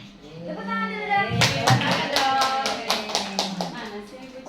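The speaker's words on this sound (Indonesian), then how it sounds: "Tepuk tangan dulu dong" Audience clapping at a kindergarten discussion event in Indramayu, a steady run of rhythmic hand claps joined partway through, mixed with voices and someone speaking.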